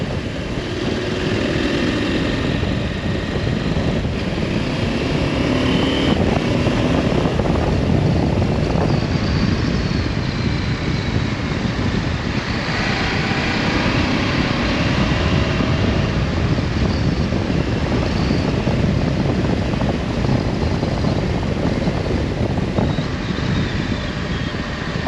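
Steady, loud engine drone and exhaust note with broadband rushing wind noise throughout, continuous and close, from a Husqvarna Norden 901 motorcycle being ridden at speed.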